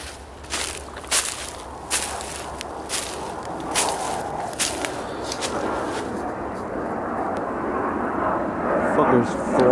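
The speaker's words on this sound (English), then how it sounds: "As you can see, there's airplanes that fly over these woods." An airplane passes high over woodland, a steady broad roar that slowly swells, with close footsteps crunching and rustling in the foreground.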